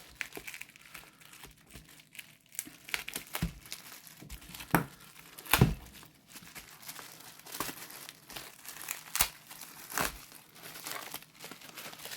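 A package of graded trading card slabs is opened, with close, intermittent crinkling and rustling of plastic wrapping and occasional sharper crackles, fairly quiet overall.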